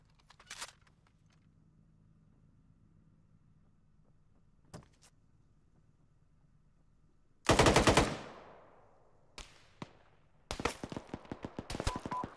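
Bursts of automatic gunfire in an Arma military simulation game, a loud volley with a decaying tail, then a single shot and a rapid rattling burst near the end, with stretches of quiet between.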